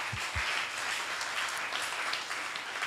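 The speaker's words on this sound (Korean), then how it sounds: "하나님께 다시 한번 영광의 박수 올려드립니다" A church congregation claps with hands raised overhead during worship, a dense, steady wash of applause heard from across the room and sustained for a few seconds.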